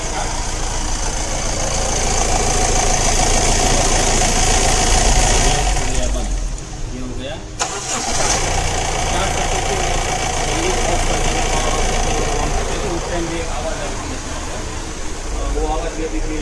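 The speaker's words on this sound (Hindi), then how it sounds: "तो अभी हम इंजन स्टार्ट करते हैं एक बार।" A Honda Amaze car engine runs steadily at idle with a rough, knocking rumble from engine mounting vibration, briefly dipping before settling back into an even hum.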